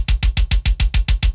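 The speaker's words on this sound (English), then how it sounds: "the Zebrano kick is the one from the bundle, which is the main kick in this project" Zebrano kick drum sample played alone in eight quick, evenly spaced hits, each one a deep punchy thump with a bright click on top, loud and close with no talking.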